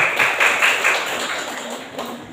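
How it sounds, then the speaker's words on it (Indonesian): A quiz team and audience give a short round of clapping in a hall, a few crisp bursts at the start that soon thin out into a fading patter. "Oke, regu D, tepuk tangan"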